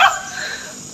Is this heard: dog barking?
yes